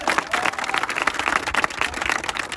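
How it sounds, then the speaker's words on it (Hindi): Loud, dense applause from an audience fills the space, a steady rush of many hands clapping together with no pauses. "एक बार तालियां जोरदार।"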